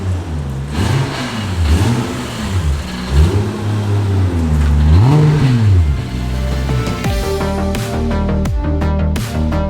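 A MK4 Toyota Supra on a test drive accelerates hard through several gears, with loud rising engine revs, shifts and a whirring note heard up close from inside the car.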